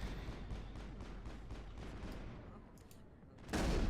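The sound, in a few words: shotgun fire in the video game Mass Effect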